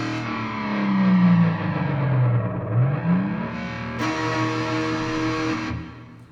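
An electric guitar runs through a pedal board with slow rise and fall time settings, its notes swelling and gliding with a wavering, effected tone and a sudden brighter shift late on, steady and without talk.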